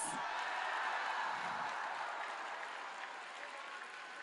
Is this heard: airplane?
no